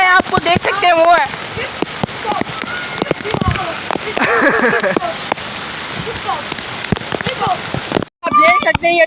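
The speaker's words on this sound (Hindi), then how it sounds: "बारिश तो थमने का नाम ही नहीं ले रही" Heavy rain pours steadily onto surfaces in Karachi, a dense continuous wash close by, with voices talking over it for much of the time and a brief dropout near the end.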